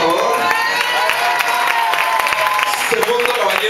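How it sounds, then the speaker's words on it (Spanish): A crowd in Madrid's old quarter claps and cheers for a contestant from Guadalajara, a lively burst of applause with scattered shouts and a voice briefly audible over it. "Un aplauso, por favor"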